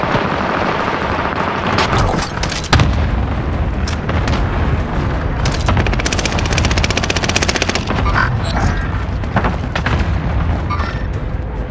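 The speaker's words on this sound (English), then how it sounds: "Enemy precision airstrike!" Loud, dense barrage of explosions and rapid gunfire in a Call of Duty Modern Warfare match as an enemy precision airstrike hits, booming blasts overlapping with machine-gun bursts throughout, close and continuous.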